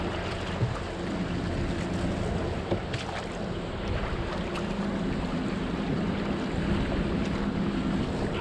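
A boat cruises along the coastline near Eddyville past Feeney's on the west bank, its steady engine drone mixed with wind buffeting the microphone and water washing past.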